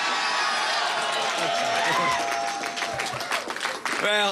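Crowd at a political speech breaking into sustained applause and cheering, a dense wash of clapping and whoops that swells and then thins, with voices and a speaker briefly audible near the end.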